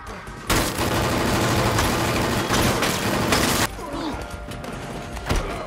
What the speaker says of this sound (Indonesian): Ruiz berhasil meraih senjatanya dan menembaki Brian